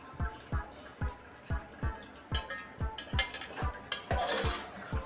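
Chopped leaves are stirred and roasted in a pot for a black chickpea pulao, with a spoon scraping and thumping in a regular rhythm of about two strokes per second over a faint sizzle and no talking.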